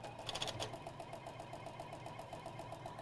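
A sewing machine runs steadily at close range in an even, rapid mechanical pulse, slightly louder at the start, with no one speaking.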